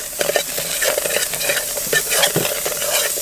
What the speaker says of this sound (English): Put the butter in, let that do its thing. We're gonna give it a nice little stir ski.